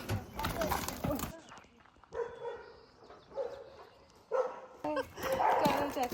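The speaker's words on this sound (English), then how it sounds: "Dogs!" Dogs bark in short bursts at an outdoor horse show, fairly close, mixed with people talking and some rustling movement near the horses.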